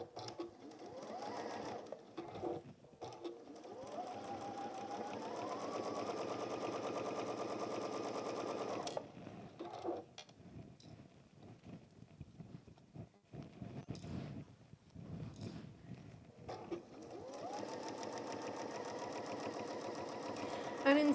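A sewing machine stitches fabric pieces for a Tilda goose toy in several long, fast runs separated by pauses, faint and steady, with talk between the stitching bursts.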